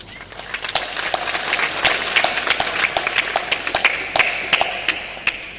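An audience claps hands together at a spiritual discourse, a dense, steady patter of many overlapping claps sustained throughout, fairly loud and close with no talk over it.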